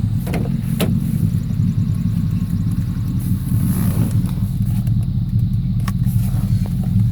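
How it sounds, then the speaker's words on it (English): A car engine runs steadily at idle, a low continuous rumble with faint clicks and background noise, no speech. "Car runs amazing."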